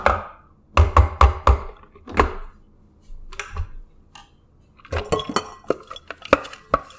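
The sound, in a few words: veggie burger ingredients going into a big bowl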